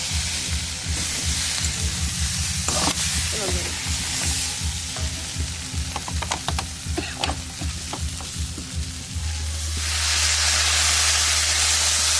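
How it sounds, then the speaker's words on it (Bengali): Rhythmic sizzling and scraping as dried fish fries in a hot pan, sharp crackles midway, then a sustained steamy hiss as water is added near the end. "ভালো মতন ভাজা হয়ে গেছে এবার জল দিয়ে দেবে"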